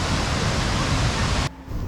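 Steady roaring rush of falling water, loud and broadband, cutting off abruptly near the end.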